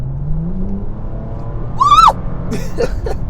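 A 2020 Bentley GT with a 6-liter twin-turbocharged W12 accelerating, its low engine drone rising steadily from inside the cabin, with a brief high whine and short voice-like bursts near the end.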